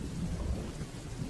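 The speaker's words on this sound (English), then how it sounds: "Rain falls softly into soil and leaves." Steady rain falls softly onto soil and leaves beyond a city wall near farmland, a dense low rumbling wash that holds evenly throughout with no voices.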